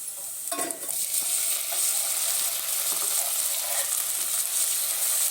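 Onion frying in a pan as a small tomato is added, for an avarekalu saagu: a bright, constant sizzle close up, with a few stirring scrapes near the start and no speech.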